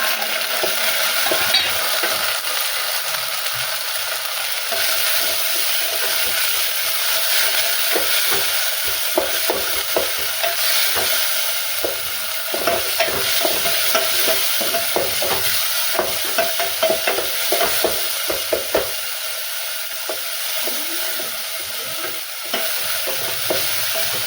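Onions, tomatoes and chillies fry in hot oil, a steady sizzle running throughout, with frequent scraping and stirring clatters of a utensil against the pan close by.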